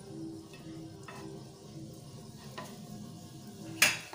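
Cheese-stuffed paratha frying in oil in a pan, giving a quiet, steady sizzle with faint scraping, ending in a short sharp clink of a utensil.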